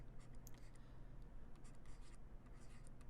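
Numbers written by hand for a decimal-tenths math lesson: soft, continuous pen or pencil scratching in short strokes and bursts, close but quiet, with no voice.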